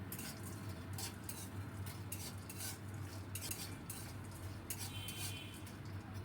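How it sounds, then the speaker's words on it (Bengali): Lentil badi dry-roasted in a pan without oil and stirred steadily, giving a continuous rattle and scrape of spoon against metal with a faint background hiss throughout. "সেই বড়িগুলোকে আগে একটু শুকনো খোলায় ভেজে নেব।"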